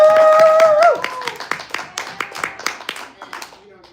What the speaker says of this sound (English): give this young lady a round of applause